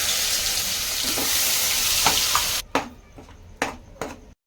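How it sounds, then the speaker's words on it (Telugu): Ground spice and vegetable paste frying in oil in a pan, a loud, dense sizzle that cuts out abruptly partway, followed by a few sharp stirring clinks and scrapes in quieter surroundings. "అవన్నీ ఇప్పుడు నూనెలో వేయించేసుకుంటున్నాను"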